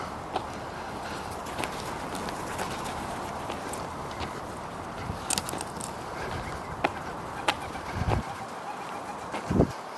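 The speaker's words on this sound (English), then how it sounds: "And you see these pigeons," Pigeons coo softly at close range beside a canal at Westport Lake, over quiet outdoor background noise, with a few scattered taps and flutters.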